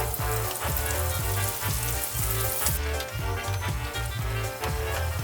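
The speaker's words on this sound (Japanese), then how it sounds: "揚げる音に癒しを感じる人、" Loud continuous deep-frying of a giant low-carb bagel in oil, a dense crackling sizzle with rhythmic bursts of bubbling heard up close for the whole stretch, no voices.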